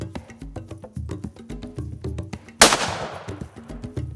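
A single loud, close rifle gunshot at night while hunting a honey badger, a sharp crack followed by a decaying tail. Rhythmic thumping plays steadily before the shot.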